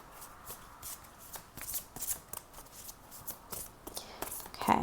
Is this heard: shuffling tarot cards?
yes